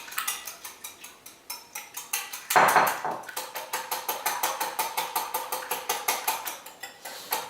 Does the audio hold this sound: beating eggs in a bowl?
yes